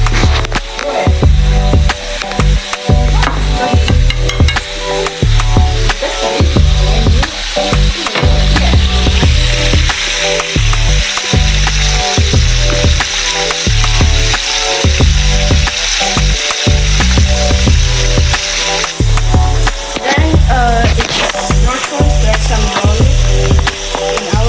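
Spicy food frying in a pan, a loud continuous sizzle with crackling and rhythmic stirring or scraping knocks throughout, close and steady.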